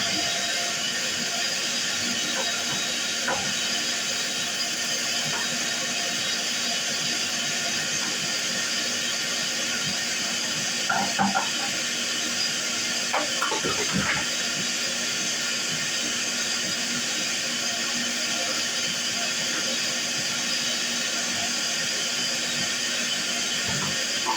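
A shop vacuum runs continuously with a loud, steady airy roar and hiss, a few faint knocks and clatters near the middle.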